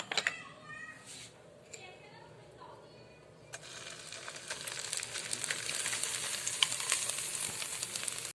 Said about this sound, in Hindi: अब मैं खशखाश जो है ये उसी थोड़े से ऑयल में डालने लगी हूँ आपके सामने